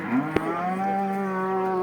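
A cow at a livestock market moos in a long, steady low call that holds for over a second, close by, with a brief sharp knock near the start.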